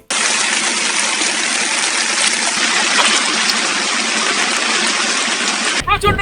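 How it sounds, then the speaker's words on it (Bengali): Heavy rain pours down at the meeting point of three rivers near Kuakata, a dense, steady roar of rainfall and running water that holds loud and unbroken for about six seconds before cutting off. "বৃষ্টি হচ্ছে আমরা এখন আছি তিন নদীর মোহনায়"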